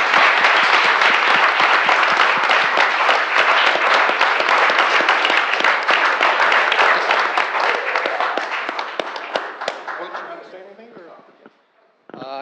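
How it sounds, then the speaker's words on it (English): Loud, dense applause fills a borough council meeting room in Madison, New Jersey, holding steady for several seconds before thinning out and fading to scattered claps. "So now we can big hand of applause for this great effort"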